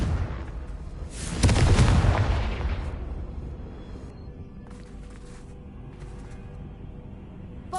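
A fiery spell blast in Hogwarts Legacy erupts as a single loud, broad boom that swells and then fades into a lingering rumble, followed by quieter crackling debris.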